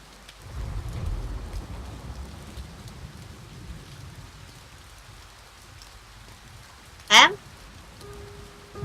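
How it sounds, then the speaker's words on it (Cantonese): Rain patters steadily in the video game A Bird Story, a soft hiss with a low rumble of thunder early on, then a sharp bright chime stands out near the end. "落雨嘅。"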